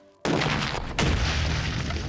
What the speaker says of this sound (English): Yep, the backup boom works a treat.